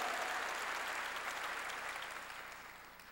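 A church congregation claps together to give glory to God, a dense, even wash of applause from a large crowd that holds steady before slowly fading, heard from a distance in a reverberant hall.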